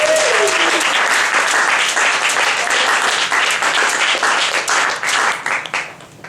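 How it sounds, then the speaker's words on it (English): A large audience at a MAP ES 2013 event breaks into loud, dense applause with a steady wash of many hands, tapering off toward the end. "Give a round of applause"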